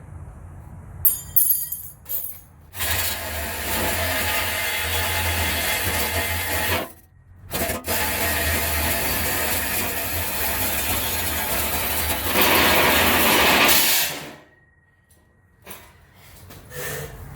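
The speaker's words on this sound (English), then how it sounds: "DeWalt Sawzall for the win." A DeWalt Sawzall reciprocating saw cuts steadily in long loud bursts, stopping briefly near the middle and again toward the end, with a harsher, brighter stretch just before it winds down.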